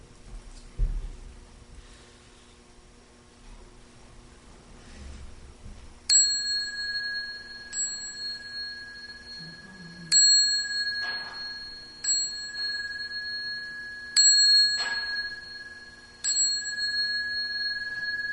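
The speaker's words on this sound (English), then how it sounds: "the chime." A meditation chime is struck by hand about six times at a few seconds' spacing. Each strike gives a clear, bright ringing tone that decays slowly and sometimes overlaps the next, in a quiet room with faint movement in between.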